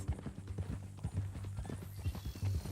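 Horse hooves clip-clopping in Red Dead Redemption 2, a steady walking rhythm of close, hollow knocks repeating throughout, with faint background game ambience beneath.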